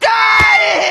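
A cartoon woman lets out a single shrill, piercing scream on a city street, loud and close and heard alone for just under a second.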